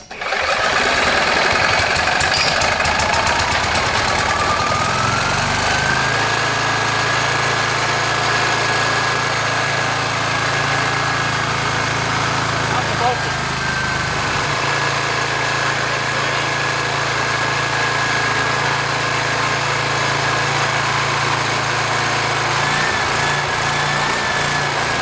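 A retired military generator engine runs steadily at a loud, even idle with a constant low drone and a faint high whine riding over it, no voices.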